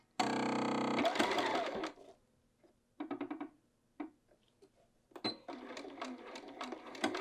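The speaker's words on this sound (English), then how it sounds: "Here we are at the machine, and again we're going to just be stitching right along here to anchor this in place." A home sewing machine with a regular presser foot stitches fabric for a field bag, running in a long steady burst, then short stop-start runs, and finally a longer stretch of stitching.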